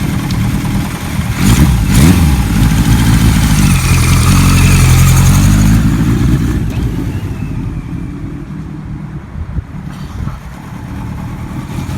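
A 1976 Kawasaki KZ900A motorcycle engine runs loud and close with a deep, throbbing rumble, then eases into a lighter idle as the revs drop partway through.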